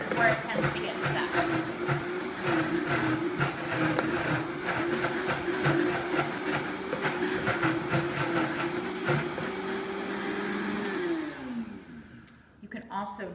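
A blender whirls frozen bananas into ice cream with a loud, steady motor whine for about eleven seconds, then winds down and ends with a few knocks.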